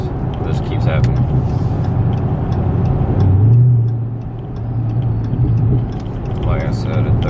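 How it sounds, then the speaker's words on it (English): A Dodge Durango approaching on the road, its engine rumble swelling steadily and peaking mid-clip before easing off, with continuous traffic noise and a person talking over it. "there's a Durango coming up"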